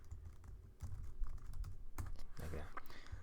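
Java code is typed on a computer keyboard: a steady, close clatter of key presses with a few louder strokes, quiet and continuous, with no clear talking.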